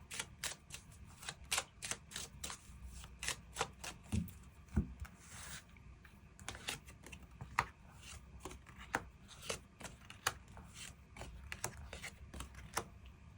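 Tarot cards are shuffled and drawn in a quiet room, giving a steady run of sharp, close clicks and light slaps, with no talking.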